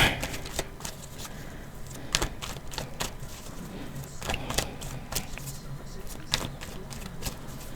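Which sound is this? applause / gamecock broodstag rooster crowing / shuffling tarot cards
shuffling tarot cards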